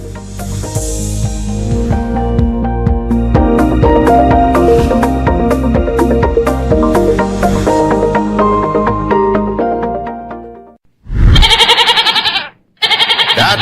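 A goat bleats repeatedly in a long series of quavering, nasal cries, loud and close, ending in one sharper bleat after a brief pause.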